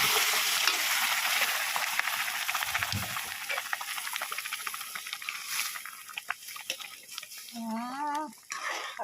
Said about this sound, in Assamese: এতিয়া মই খাৰকণ ইয়াত ভাজি